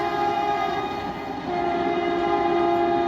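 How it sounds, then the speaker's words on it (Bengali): A Vande Bharat Express sounds its horn in a loud, sustained blast lasting the whole stretch as it rushes past at speed, with steady rolling rail noise underneath. "চলে গেল বন্দে ভারত এক্সপ্রেস।"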